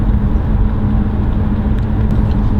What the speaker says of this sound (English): The V8 roar is something that I never get fed up with